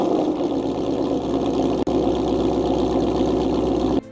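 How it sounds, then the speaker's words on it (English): A 2015 Ford Mustang GT with a Coyote V8 and a Corsa Extreme catback exhaust idles close up: a steady, deep, lopey burble with an even pulsing rhythm, a split-second dropout midway and a sudden cut near the end. "Literally greatest sounding exhaust for the Coyote ever."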